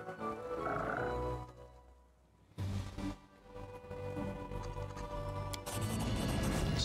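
A chorus of frogs croaks in Pathfinder: Kingmaker, a steady, layered throaty din that dips briefly, surges back with a crash-like burst and carries on loud to the end.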